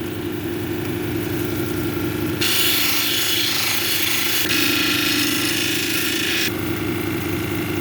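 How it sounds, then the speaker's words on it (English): A Paul Bunyan plume agate cabochon pressed against a spinning polishing wheel, a loud steady grinding hum joined by a brighter hissing rasp in the middle stretch, with no talking. "we're going to go through the polishing process to see where we end up"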